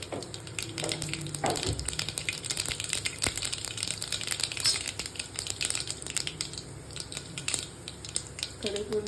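Mustard seeds spluttering in hot oil for ennai kathirikai kootu, a steady dense crackle and sizzle of popping seeds that runs close and continuously throughout, with faint kitchen clatter.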